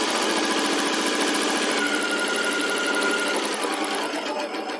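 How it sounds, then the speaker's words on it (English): A sewing machine back stitches a seam on a table runner, a fast steady mechanical whir and rapid needle chatter that runs loud and close for the whole stretch with no voices. "I am going to back stitch on this point right here because I want it to be pretty solid"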